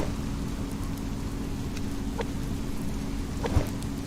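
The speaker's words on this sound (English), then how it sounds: "Sorry that it's raining and nasty, but well, that's the way the game does sometimes" Steady rain falls in the survival game Subsistence, a dense constant patter with a low rumble beneath and a couple of faint drips or knocks, unbroken by voices.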